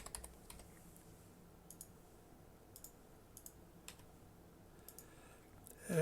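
Typing on a computer keyboard: faint, sparse key clicks tapping in short irregular bursts against quiet background, with a slightly louder knock at the very end.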